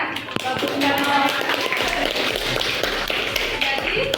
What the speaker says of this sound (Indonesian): tepuk tangan siapa yang buat itu ya?